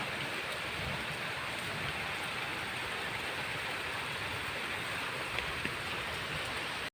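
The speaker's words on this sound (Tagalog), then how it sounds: "Lumalakas ang ulan." Heavy rain pours steadily outdoors on a farm, a dense, unbroken roar of drops hitting surfaces all around, loud and constant with no voices.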